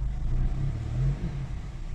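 A 2014–2017 push-start Honda Accord with a camshaft position sensor 'B' fault and misfire revs briefly, its close, low engine rumble rising and dipping unevenly, with no talk.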